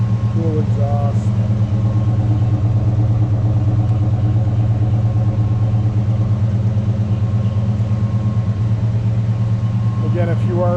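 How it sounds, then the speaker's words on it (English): A 1965 Chevrolet Chevelle Malibu SS convertible idles with a steady, deep exhaust rumble, loud and close, holding an even tone throughout with a faint voice briefly over it. "Hear the exhaust. Sounds great for this 65 Chevy Malibu."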